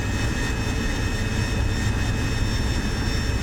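F-35B jet engine in a flight video game just after takeoff: a loud, steady roar layered with high whining tones that holds constant from start to finish.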